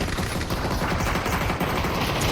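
Dense, continuous automatic gunfire from a battle royale clan championship match, loud overlapping bursts filling the whole stretch without pause.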